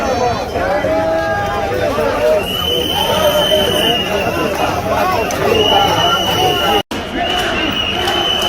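Huge street protest crowd in Italy, a dense continuous roar of many voices with shouting and chatter, steady and loud throughout, briefly cut out near the end.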